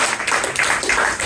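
An audience at a comedy hypnosis show at a fringe festival claps in a dense, steady round of applause that holds for the full moment without pause.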